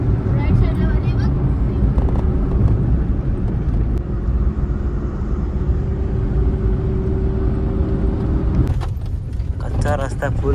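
Inside a car driven along a rough, unpaved road, a steady low engine and road rumble fills the cabin throughout, with people talking over it and a brief rattle near the end.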